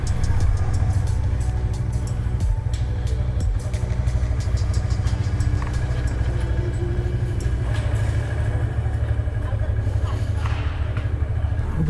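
A motorcycle engine with a slight fault drones steadily while riding on a road, a low continuous rumble with occasional clatter and bumps, and a voice intermittently over it.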